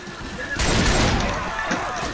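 A loud burst of rapid gunfire from Left 4 Dead 2 breaks in after a quiet moment, then keeps rattling close by as it trails off with scattered shots.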